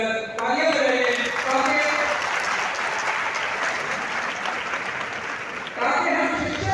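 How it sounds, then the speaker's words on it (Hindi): Auditorium audience at a Teachers' Day address at CRSU Jind clapping loudly and continuously, a dense sustained wash of applause, with a voice speaking briefly at the start and end. "please put your hands together, तालियां बजाइए"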